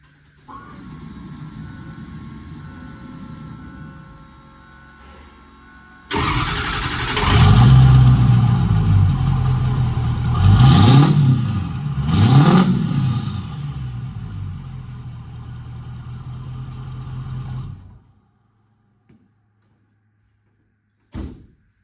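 A 6.0 diesel pickup truck, part of a budget race-truck build, idles roughly before its engine revs up loudly from about six seconds, rising and falling in two sharp bursts, then settles back and cuts off near the end.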